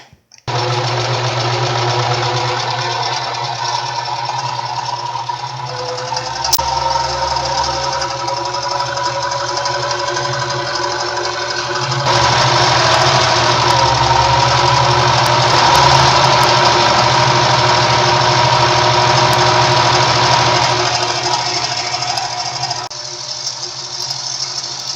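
A domestic sewing machine stitches fabric in a continuous, loud mechanical whir with a rapid needle rhythm, running close and without pause for the whole stretch.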